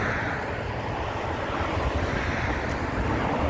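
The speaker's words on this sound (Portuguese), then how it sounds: "tá ventando muito aqui" Strong wind buffets a phone microphone outdoors, making a loud, continuous rushing roar with no let-up.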